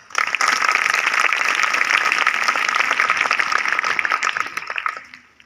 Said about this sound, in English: So please put your hand together to cheer up the first team